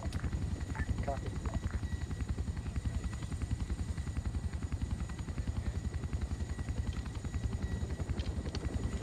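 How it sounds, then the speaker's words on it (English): Loud, rapid rotor thumping of a helicopter flying near the ground in a Vietnam War video game, steady and close throughout, with a voice speaking briefly over it. "That's a helicopter plowing near the ground."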